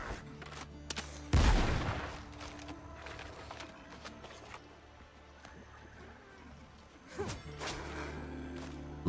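Gunshots ring out in the naval video game Windrose, with a loud burst near 1.5 seconds and another around 7.5 seconds over a steady background of game ambience and low rumble.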